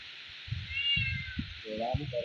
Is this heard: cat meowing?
yes